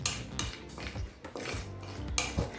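Small pieces of cashew stirred in ghee in a metal kadai, a spoon scraping and clinking against the pan in quick irregular strokes, close and fairly quiet.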